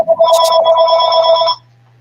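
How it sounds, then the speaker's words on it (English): A phone rings during an online group meeting, one clear electronic ringtone burst lasting about a second and a half, moderately loud and alone without talk, then cutting off into near silence. "That was somebody else's phone"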